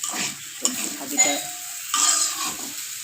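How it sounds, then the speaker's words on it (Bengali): Potato fry being stirred in a hot pan, with a steady oily sizzle and scraping utensil strokes against the metal in uneven bursts, close up, with no talking. "এই যে আমার আলু ভাজাটা,"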